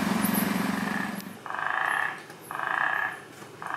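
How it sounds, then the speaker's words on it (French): Guttural toads croak during breeding season near iSimangaliso Wetland Park at St Lucia, South Africa; loud, close, rasping pulsed calls come in repeated bursts, overlapping one another. "quelle chance d'entendre les crapauds gutturaux en pleine reproduction"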